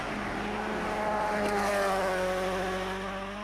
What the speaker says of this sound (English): These fans have been waiting days to hear the sounds of the car, and they just experienced Elfyn Evans at full pelt there